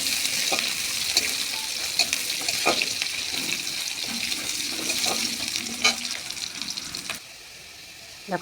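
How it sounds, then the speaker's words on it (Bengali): Chopped onions and garlic paste fry in oil in a kitchen, a constant sizzle broken by occasional scraping and clinks of stirring before the sound drops away near the end. "দেখো পেঁয়াজগুলো আমার লাল লাল করে ভাজা হয়ে গিয়েছে।"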